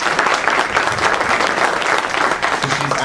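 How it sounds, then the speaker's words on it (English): An audience at a planning-for-success event gives a sustained round of applause, dense, even clapping from many hands at fairly loud level for a few seconds. "And Iresa, let's give Iresa a round of applause as well."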